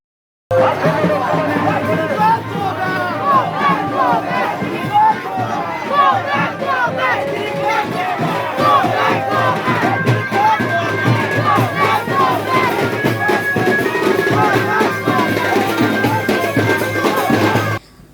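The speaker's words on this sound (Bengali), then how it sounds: "তৃণমূল কর্মীরা গো ব্যাক স্লোগান দেয় তাকে" Political party workers chant 'go back' slogans at a campaign road show near a party office in a market area, a loud crowd shouting and chattering together almost without pause from start to finish.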